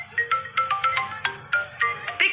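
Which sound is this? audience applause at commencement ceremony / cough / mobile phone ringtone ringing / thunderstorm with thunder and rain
mobile phone ringtone ringing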